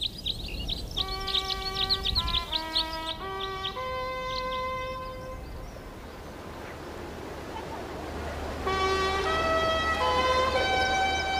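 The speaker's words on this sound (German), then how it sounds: "Mit Trompeten wird das enorme Echo demonstriert" A trumpet plays a short melody on Königssee, its clear sustained notes ringing out over faint birdsong, then the phrase returns several seconds later as a softer echo off the mountains.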